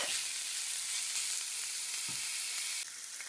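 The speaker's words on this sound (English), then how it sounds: "a bit of olive oil, 1 tablespoon on a hot fry pan, and our bacon or speck. Fry it a bit." Bacon or speck frying in a tablespoon of olive oil in a hot pan, giving a loud, steady, close-up sizzle and hiss with a faint stir or two.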